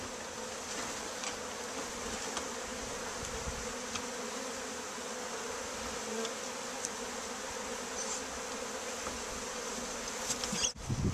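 A steady drone of many honeybees buzzing close around while a colony is being hived, continuous and dense, with a brief knock near the end.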